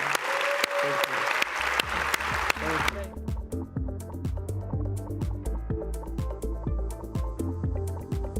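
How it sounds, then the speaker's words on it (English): A conference audience in a performance hall gives a warm round of applause at a climate morning plenary. The clapping lasts about three seconds before music takes over. "Please join me, a warm round of applause to Catherine Flowers."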